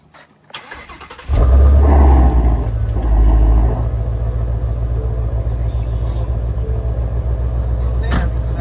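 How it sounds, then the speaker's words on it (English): A 2016 Shelby GT350 fires up with a sharp crank and a loud rumbling rev, then settles into a steady deep idle close by. A brief voice can be heard before the engine catches. "Let's take a ride around. Let's go around the block."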